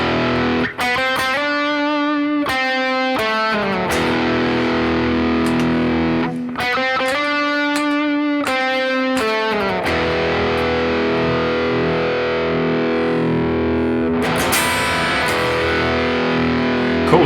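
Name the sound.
Pearson Hyper S headless electric guitar, driven distorted tone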